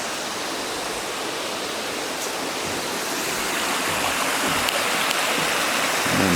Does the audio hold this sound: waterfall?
yes